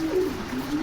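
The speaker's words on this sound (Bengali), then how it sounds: "এটা তো জোড়াশয় কবুতর না?" Pigeons coo in a low, soft, continuous murmur at a pigeon market, close by and steady, with no talk over it.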